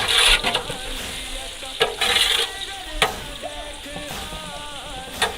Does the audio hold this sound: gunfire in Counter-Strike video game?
no